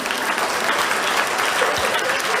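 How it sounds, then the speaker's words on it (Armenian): An audience at a schoolchildren's swimming tournament applauds the international participants with a dense, even burst of clapping that fills the whole moment. "Մեր միջազգային մասնակիցներին ծափահարեք եւ ողջունենք։"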